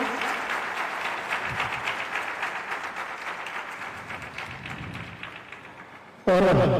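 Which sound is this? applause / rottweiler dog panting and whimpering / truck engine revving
applause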